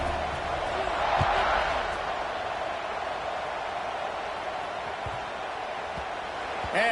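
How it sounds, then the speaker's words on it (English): A football stadium crowd at a college game keeps up a broad, steady roar of murmuring voices, loud and continuous throughout, with a brief swell near the end. "this crowd is buzzing after that last score"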